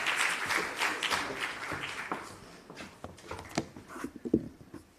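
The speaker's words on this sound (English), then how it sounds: "Let's give him a round of applause." Audience applause at an employee celebration event, a spread of hand claps that is loud at first and thins into scattered, uneven claps toward the end.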